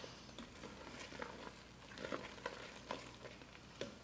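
A rice pudding custard made with jasmine rice is stirred in a Ninja Foodi pot, giving faint, soft scraping and sloshing strokes at an uneven rhythm over a low background hiss, with no talking.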